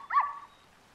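A single short, bright bark from a cartoon dog, heard close and clear in a Polly Pocket animation, with quiet after it.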